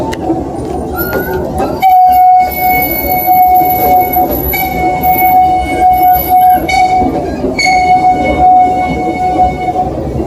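A zoo train ride rolls steadily along its track loop, a continuous rumble of wheels and carriages with high metallic squeals and ringing tones drifting in and out, close and fairly loud throughout.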